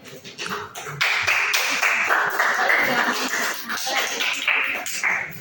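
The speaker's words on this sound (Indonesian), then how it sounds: "Tepuk tangan dulu kalian" A class of students claps for a presenting group, uneven individual claps that swell into a loose, continuous round, with a few sharper taps standing out near the start.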